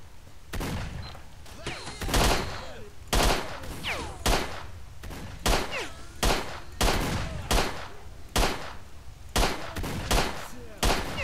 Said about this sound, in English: I love the ricochet, that's awesome.